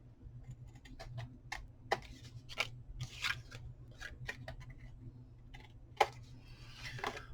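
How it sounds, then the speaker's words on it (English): Scissors trim the edges of grungy paper journal tags, making a quiet series of crisp, irregular snips and clicks, about a dozen cuts in a row with no talking. "Okay, so I'm going to trim these edges off."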